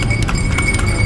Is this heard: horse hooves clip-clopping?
yes